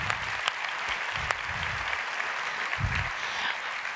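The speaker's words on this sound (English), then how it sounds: "let's give him a round of applause" An audience applauds a presenter at a Salesforce event on service AI, a steady wash of clapping that holds for several seconds with a few low thumps mixed in.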